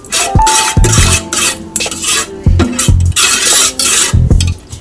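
Coriander leaves are stirred into buttermilk sambar with a metal spoon, giving repeated close clinks and scrapes against the pot in uneven bursts.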